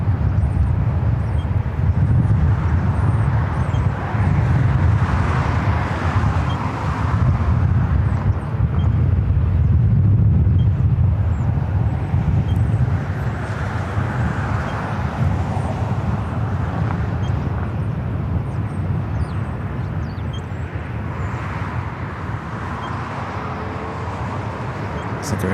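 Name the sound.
Boeing 777-300ER airliner at LAX, heavy takeoff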